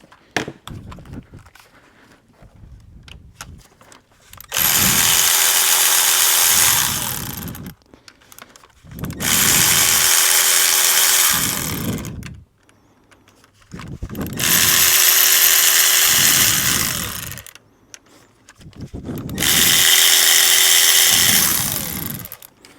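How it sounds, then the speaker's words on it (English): A power tool whirs in four long bursts of several seconds each, separated by pauses with small clicks and handling noises, as it removes 10 mm camshaft cover bolts on a GM Ecotec 2.2L engine; close and loud. "we're ready to remove these 10 millimeter bolts that are going around the perimeter of the camshaft"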